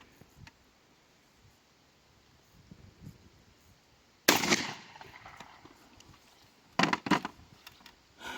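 Airgun fired with steel ball ammunition at an outdoor target range: a sharp loud shot near the middle, then a tight cluster of two or three more shots close together near the end, over quiet background rustle.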